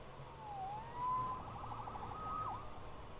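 A police siren in a Spider-Man video game wails at a distance, its tone sliding up and down, faint over a low steady background hum.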